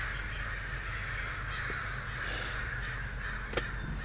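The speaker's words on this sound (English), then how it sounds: "the 500 or so crows are demonstrating right now" A large flock of roughly five hundred crows caws continuously, a dense overlapping chorus of harsh calls at moderate distance, with one sharper caw standing out near the end.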